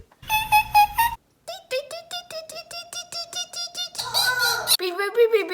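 Voices imitate a kestrel call, giving repeated, rapid, high, nasal beeping notes in quick even series, with short pauses and several different people taking turns, close and clear.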